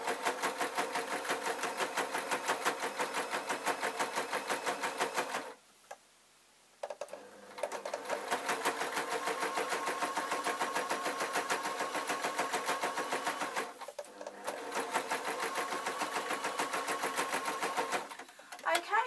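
A sewing machine stitching a seam on a simple waistcoat, running in long, fast, steady bursts with short pauses between them while the stitching is adjusted.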